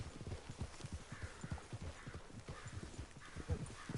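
Steady rhythmic hoofbeats of a horse galloping in Red Dead Redemption 2, quiet and continuous, with faint background ambience.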